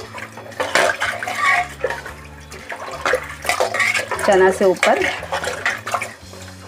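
Water is poured and splashed into a pot of chickpeas in a home kitchen, with clinking of the vessel and someone talking over the pouring.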